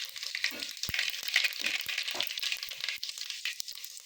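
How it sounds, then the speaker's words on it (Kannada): Mustard seeds frying in hot oil, a close crackling sizzle with sharp pops and spatters, fairly quiet and irregular with no talk. "ಈಗ ಸಾಸಿವೆ ಜೊತೆ ಹಾಕ್ತಾಯಿದ್ದೀನಿ"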